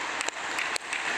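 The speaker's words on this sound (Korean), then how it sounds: "박수 쳐" A church congregation at a weekday worship service claps hands together in a steady, dense burst of applause, fairly loud and uninterrupted apart from a couple of brief dips.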